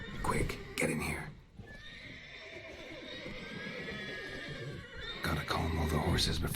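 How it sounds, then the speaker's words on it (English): Horses neigh and whinny in the video game Witcher 3: Wild Hunt, with loud bursts at the start and end and a long drawn-out whinny between, under a speaking voice. "Gotta calm all the horses before they wake the guards."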